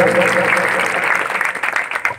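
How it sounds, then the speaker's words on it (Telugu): Audience at a Bathukamma festival applauding loudly, a dense burst of clapping from a crowd, close and full, fading slightly toward the end. "ఒకసారి గట్టిగా చప్పట్లతో వారికి అభినందన తెలియజేద్దాం"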